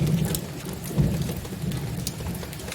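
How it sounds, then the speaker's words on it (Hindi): Heavy village rain pours steadily, a dense hiss of drops drumming close by with a low rumble underneath and no voices. "इतनी भयंकर बारिश हो रही है"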